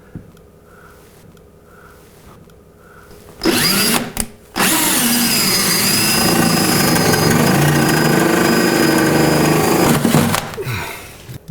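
After a low background hum, a power drill starts with a brief burst, then grinds loudly and continuously through a cabinet for several seconds before winding down.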